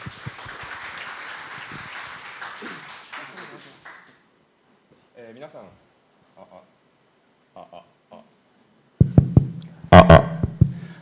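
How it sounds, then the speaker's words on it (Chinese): Audience applause welcoming a speaker at the 2016 Kaohsiung Game Week Asia-Pacific game forum: dense clapping for about four seconds, then it dies into near silence broken by a few sparse sounds and some louder thumps. "那我们今天呢，就掌声欢迎他。"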